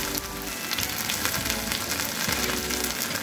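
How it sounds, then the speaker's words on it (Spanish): A tortilla burger fries in a pan over very low heat, giving a steady, dense sizzle with fine crackling throughout, close and continuous with no talking. "Así que freímos solamente unos cuantos segundos, se puede decir hasta 30 o un minuto, a fuego mínimo."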